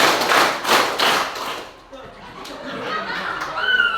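Students in a scout orientation session at a junior high school clap together in a quick group pattern, several broadband bursts close together at first, then fading under a voice and room chatter.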